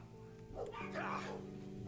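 A dog barks and yips in a game, the short barks breaking through steady tonal background music and other layered sound at moderate volume.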